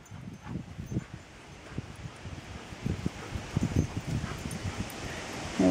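Dog making soft, uneven whimpering and grumbling vocal sounds, quiet and close, in short bursts over light rustling outdoor background.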